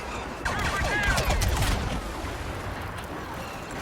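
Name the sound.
blaster rifle fire in Star Wars Battlefront video game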